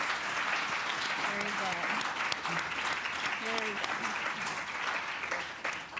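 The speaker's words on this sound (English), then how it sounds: "can we just give a round of applause, please, to our guests?" An audience at a show-production panel applauds its guests, with sustained crowd clapping throughout and a few voices talking faintly beneath it.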